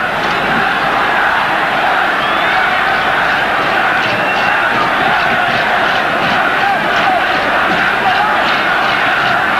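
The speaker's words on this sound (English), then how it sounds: "The crowd chanting Zambia as he still come forward" A dense football stadium crowd at a 1994 African Cup of Nations match between Nigeria and Zambia chants for Zambia, a steady loud roar with rhythmic pulses, a commentator's voice faintly over it.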